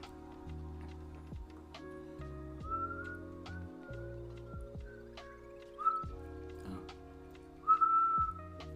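Someone whistles short melodic phrases, soft and close, with quiet ticks and faint background hum between the notes.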